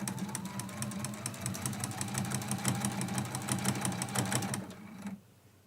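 Sewing machine stitching a quilt block, a fast steady mechanical chatter running for about five seconds before stopping abruptly, then near silence.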